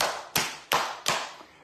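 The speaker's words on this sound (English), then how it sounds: "I want you to clap harder until it's like this" Bare hands clap together firmly, with four sharp, evenly spaced claps close by and each ringing briefly before the next.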